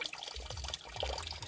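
Spring water flows and splashes continuously at a grandparents' old house in Bohol, a steady close rush of running water with no voices.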